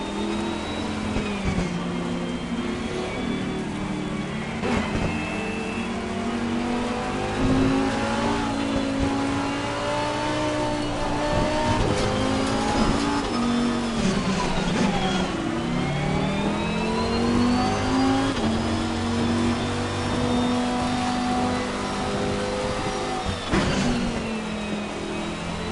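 Lamborghini Supertrofeo race cars driving a wet track on the pace lap, engines droning and revving steadily with shifting pitch as the cars pass, loud and continuous throughout.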